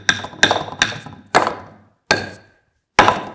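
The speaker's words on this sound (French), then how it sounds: "À deux doigts d'en casser mon marteau." Six heavy hammer blows land one at a time, loud and close, with uneven gaps and a short ringing decay after each strike.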